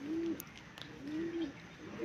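Two soft, rounded pigeon coos, one after another, low and close, over a faint hiss of background noise.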